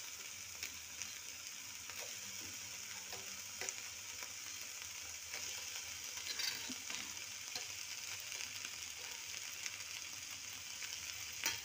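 Small cut potatoes with curry leaves fry in a pan for aloo gobi bhaji, a soft, even sizzle with occasional faint clicks of a spatula, quiet and without talk.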